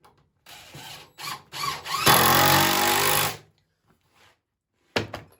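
A power drill runs in several short bursts and then one long steady whir while driving self-starting screws into a 6-foot poplar swing, loud and close, with a brief final burst after a pause.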